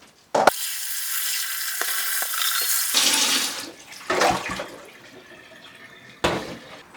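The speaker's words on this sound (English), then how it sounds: "I'll just pour cold water into them now" Cold water is poured from a tap onto boiled eggs in a pan, a close, steady rushing splash that stops and restarts in several bursts, with clunks of the pan and no talking.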